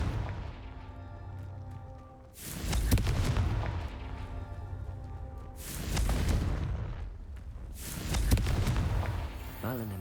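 The Confringo fire spell in the video game Hogwarts Legacy goes off as three loud, booming blasts a few seconds apart. Each blast has a roaring, rumbling tail that fades before the next.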